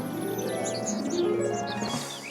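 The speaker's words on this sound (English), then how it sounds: "We've also got the Welcome Spring car horn" A melodic car horn called Welcome Spring from the racing game Forza Horizon 5, playing a bright chirping, birdsong-like tune that runs steadily for a couple of seconds over a sustained tonal backing, with no talking.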